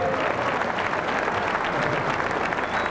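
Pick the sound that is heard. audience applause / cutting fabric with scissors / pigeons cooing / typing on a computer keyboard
audience applause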